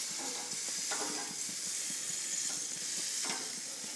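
Venison summer sausages sizzle steadily on a grill while being flipped over, a continuous close frying hiss with a few soft clicks and scrapes of turning.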